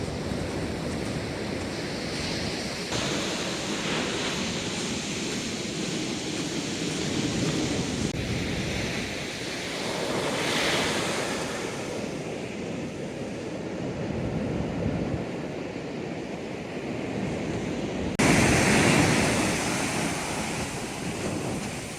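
Ocean waves break and wash onto a sandy beach on the coastal walk between Denmark and Walpole in Western Australia, a loud continuous roar of surf rising and falling, with wind buffeting the microphone and no talking.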